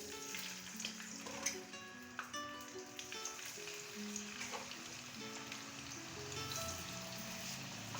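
Potato sticks for French fries deep-frying in hot oil, giving a soft, continuous bubbling sizzle with light crackle throughout, fairly quiet and steady, with no talk.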